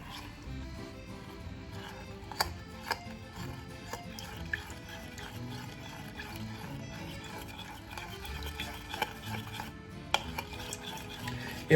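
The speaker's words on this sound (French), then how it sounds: "on va mettre carrément 2 cuillères à soupe de miel dans notre marinade. On mélange bien le tout." A spoon stirs a honey marinade for a salmon poke bowl in a bowl, giving soft wet swishing with occasional light clinks against the dish, quiet and close.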